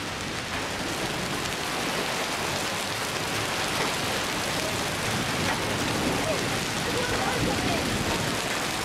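Half-inch hail pelting down around a car, a dense continuous roar of impacts that stays loud and steady throughout with no pauses.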